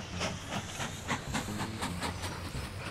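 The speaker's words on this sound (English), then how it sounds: "It's a lovely little train." A small train runs in the railway game Mashinky, giving a steady rolling rumble with a faint hiss and a regular, quick clicking rhythm over the whole stretch, at an even level.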